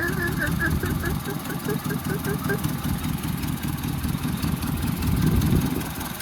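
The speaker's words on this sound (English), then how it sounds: "you can hear that bearing sound. That's the alternator right there." A 1976 Ford Mustang II engine idling steadily with a rough, rhythmic mechanical chatter and a faint whirring from a worn alternator bearing.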